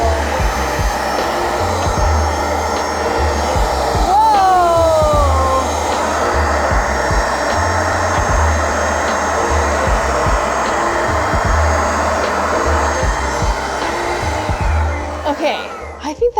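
A Little Green cleaning machine drones loudly and steadily as it sprays and vacuums a couch, a continuous close motor whine with a brief pitch sweep partway through and a rattle near the end.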